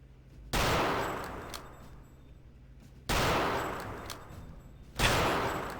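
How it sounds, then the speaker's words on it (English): Three loud, booming gun blasts in Return to Castle Wolfenstein, each spaced a couple of seconds apart with a long echoing decay, with almost no talking. "You shooting me from down the hall?"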